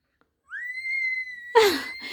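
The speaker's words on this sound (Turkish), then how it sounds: "ağzıyla ıslık çalıyor" A single sustained mouth whistle holds one steady pitch for about a second, then breaks off into a breathy gasp or laugh.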